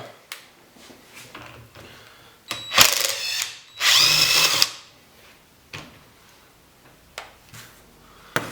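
A power tool unscrews the top nut of a rear shock absorber, giving two loud bursts of whirring, each a second or two long, amid scattered clicks and metallic taps nearby.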